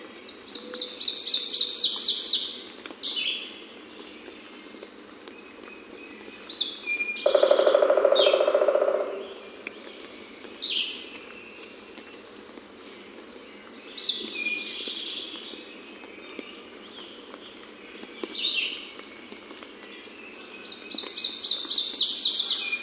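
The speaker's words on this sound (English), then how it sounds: "Early spring morning birds with dew dripping from the forest leaves." Several birds sing and chirp in a quiet forest on an early spring morning, with dew dripping from the leaves, bright trilling phrases coming and going with pauses, heard at a moderate distance.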